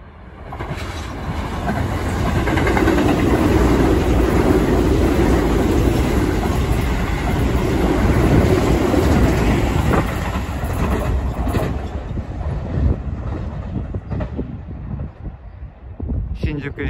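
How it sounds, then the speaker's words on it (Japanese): A Keio Line semi-special express bound for Shinjuku passing through Hachimanyama station: a loud, sustained rush of rolling wheels and wind swells, then fades over about twelve seconds into quieter station ambience, heard close to the platform. "新宿行きの準特急が通過していきました。"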